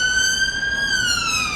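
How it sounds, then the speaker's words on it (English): An ambulance siren passing along a London street, a loud wailing tone with strong harmonics that holds steady and then slowly drops in pitch as it moves past, over a low traffic rumble. "Sorry about the ambulance."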